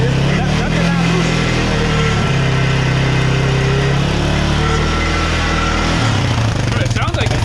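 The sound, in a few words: rattling inside car muffler with engine idling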